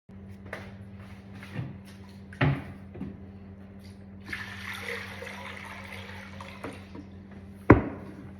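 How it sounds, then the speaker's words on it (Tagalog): Water is poured out into a small sink at a workplace, a steady splashing trickle over a constant hum, with a few sharp knocks and clatters. Nobody speaks. "diyan ko nga pala tinatapon yung tubig sa maliit na lababo na yan"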